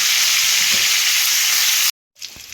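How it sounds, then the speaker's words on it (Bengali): Steamed cauliflower and potato pieces fry in hot oil with a little turmeric, a loud, dense sizzling hiss that cuts out abruptly for a moment, then resumes more softly. "তো ফুলকপি আর আলুটা এদিকে লাল লাল করে ভাজা হচ্ছে"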